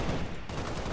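Assault rifle fire in the video game Halo: Spartan Assault, a dense, steady burst of shots filling the full second with no pauses.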